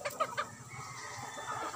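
A mayahin gamecock at a derby rooster farm gives a few quick, close clucks at the start, then settles into soft low murmuring sounds against a quiet yard background.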